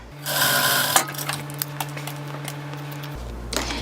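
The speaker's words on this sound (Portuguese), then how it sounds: "Novamente eu vou passar a costurinha de segurança." Sewing machine running a safety seam through fabric for a zippered pouch, a rapid close mechanical stitching whir with light ticking, starting and stopping in short bursts.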